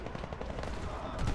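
Rifle gunfire from the shooter game Warface rattles in rapid, loud bursts close up, a dense string of shots through the whole moment with game noise around it.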